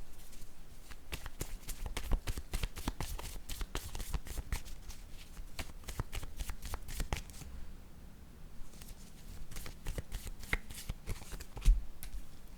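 Tarot cards being shuffled close up, a rapid papery riffling and flicking that runs almost continuously with a brief lull, no talk.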